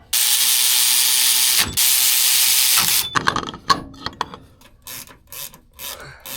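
A ratchet tightens the pinch bolts on a Polaris RZR suspension, first in two long loud continuous runs of rapid clicking, then in shorter uneven bursts of clicks and metallic knocks close up.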